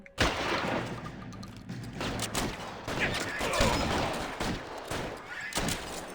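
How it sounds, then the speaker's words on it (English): Heavy, sustained gunfire in the L.A. Noire video game, a dense, continuous barrage of overlapping shots with occasional louder bursts, and a voice faintly present beneath the noise. "Why is it just shooting?"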